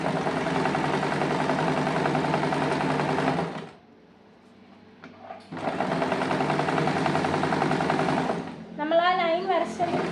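A sewing machine stitches a kurti slit in two loud, rapid, whirring runs separated by a short pause, and a voice briefly follows the second run.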